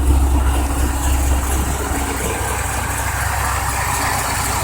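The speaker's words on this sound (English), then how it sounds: "It takes about 30 seconds for it to idle down to normal." A Roush Mustang engine idles down after starting, giving a steady deep rumble with a low throb at constant volume from close by.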